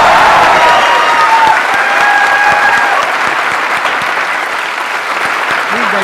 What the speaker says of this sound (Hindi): एक्चुअली हमें उनके लिए आज स्पेशली तालियां बजानी चाहिए